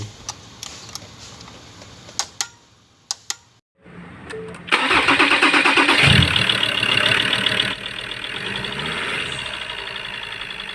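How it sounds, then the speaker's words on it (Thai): A Ford Everest 3.2 diesel engine cranks and fires after injector repair, then settles into a steady idle, close and loud after a few workshop clicks and knocks. "เราติดเครื่องสตาร์ทนะครับเพื่อ ทดสอบการทำงานครับว่าใช้งานได้ไหม"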